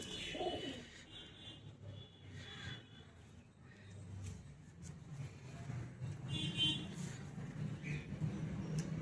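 Soft, low pigeon cooing repeats quietly in the background, mixed with faint chirps and distant traffic.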